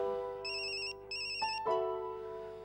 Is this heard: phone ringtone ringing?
yes